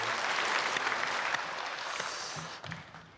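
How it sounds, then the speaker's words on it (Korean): A church congregation at a Sunday worship service applauds the choir, a dense steady wash of clapping from many people that thins out near the end, with a faint voice underneath. "박수로 축복하겠습니다"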